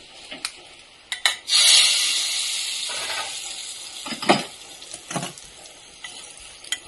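A sharp burst of sizzling as hot tempering with curry leaves hits the chutney, hissing loudly then fading, with a few spoon taps and stirring clinks around it.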